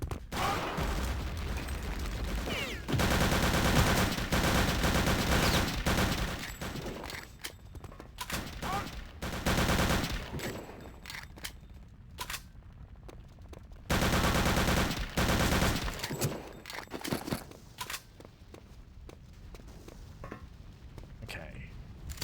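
Mounted machine gun fire in Return to Castle Wolfenstein, sustained and dense, running in long heavy rattling bursts with brief lulls, loud and close throughout, with faint talk partly buried beneath it.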